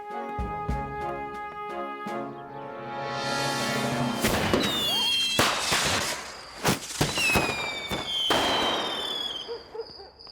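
Cartoon fireworks go off at a night-time display, first rising whistles, then a string of loud, sharp bangs and crackling bursts spread over several seconds with no talking.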